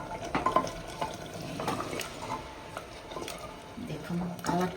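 A spoon stirs goat meat masala in a pressure cooker, making a steady wet churning with soft scraping and a faint sizzle underneath, close by, while someone talks over it.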